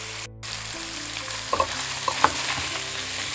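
Beef pieces fry in a pan as their water cooks off, making a loud, continuous sizzle with a few sharp pops and spatters near the end and no talk.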